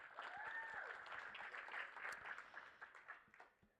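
Sustained applause from an audience, steady dense clapping throughout with occasional whoops, fairly distant and even in level.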